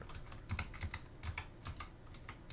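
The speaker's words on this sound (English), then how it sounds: "I'm moving my character by pressing keys on my keyboard" Computer keyboard keys are pressed in irregular quick clusters to move a character in a game, soft close clicks and taps over a faint background, with no talking.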